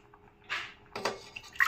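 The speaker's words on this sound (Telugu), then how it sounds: "కాఫీ గ్లాస్తో ఒక 2 గ్లాసులు వాటర్ వేస్తున్నాను నేను." Water is poured from a coffee glass onto soaked moong dal in a pot, making three short splashy bursts separated by quiet pauses.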